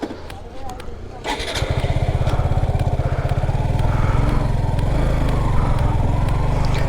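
A motorcycle riding uphill toward the peak of Mirinja Valley starts up and settles into a loud, close, steady throbbing engine rumble that holds to the end.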